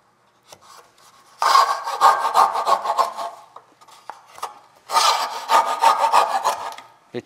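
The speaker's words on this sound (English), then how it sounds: "Then I have this dovetail cutout saw." A dovetail cutout saw cutting through wood while making drawer dovetails: two bursts of rapid, rhythmic rasping saw strokes, close and fairly loud, separated by a brief pause with a few light knocks, and no talking.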